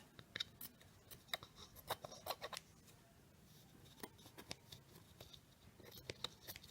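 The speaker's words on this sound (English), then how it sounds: "I'm just going to take my scissors and cut off the excess." Scissors snip off excess buffalo check fabric from a handmade Christmas ornament in a series of close, crisp cuts, with quiet rustling between them.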